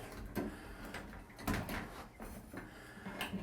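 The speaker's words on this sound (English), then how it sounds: "Let's try closing the door one more time." A glass door is pushed shut several times in a row. Each attempt gives a dull knock and rattle over steady background noise during a home installation job.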